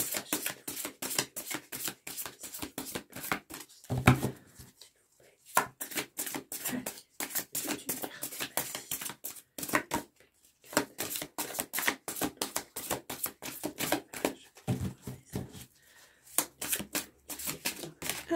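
Cards from a large, oversized deck are shuffled in repeated rapid riffling bursts with brief pauses between them, close and crisp, with no voices.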